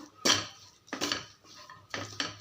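A metal spoon clanks and scrapes against a cooking pot while stirring spices for vada curry, several times, close up, in uneven strokes with quiet gaps between.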